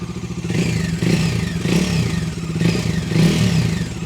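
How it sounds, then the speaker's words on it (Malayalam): A motorcycle engine revs repeatedly with a deep, bassy exhaust rumble, each throttle blip swelling and fading, close up with no voices. "നല്ല ബേസ്നെസ് ആ ഒരു എക്സോസിൻ്റെ ഭാഗത്തുനിന്നും വരുന്നുണ്ട്"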